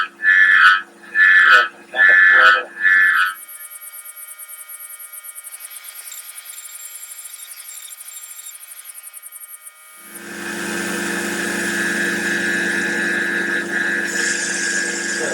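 A CNC machine cuts an aluminum knife blank for an auto knife design, with a high steady whine through the middle and then a louder, broader grinding cut, after a few short tonal bursts at the start.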